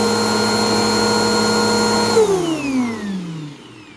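A salvaged Bissell PowerForce Helix 2191U upright vacuum cleaner, slightly damp inside, runs with a loud, steady motor whine, then switches off and winds down over a second or two.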